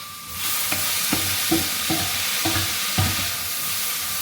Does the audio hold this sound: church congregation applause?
no